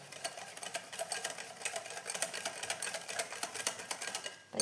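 Biscuit batter with a pinch of salt being beaten steadily, a continuous busy whirring with rapid rhythmic pulses throughout, close and moderately loud, stopping abruptly near the end.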